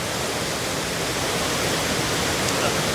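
Water rushes steadily through a channel to drive an old 19th-century water wheel in Timbó, Santa Catarina, a loud, continuous, broadband rushing with no break.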